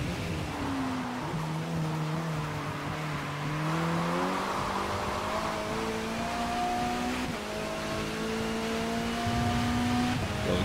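An MG race car in Forza Motorsport drones loudly and continuously, its engine pitch sliding down and then climbing steadily through the gears as it accelerates, with tire noise underneath and no talking.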